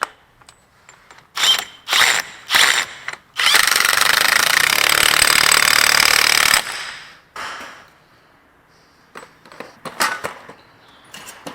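A power ratchet spins a 32 mm axle nut onto a Ford Explorer's front hub, firing several short whirring bursts, then one sustained run of about three seconds, then more brief spurts, all close and loud with no speech.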